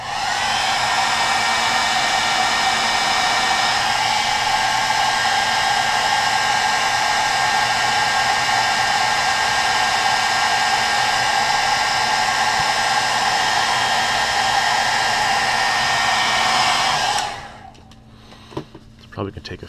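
A hair dryer heat-sets fresh paint on a baby bass crankbait lure, blowing with a loud, constant whooshing roar for most of the time before cutting off abruptly near the end.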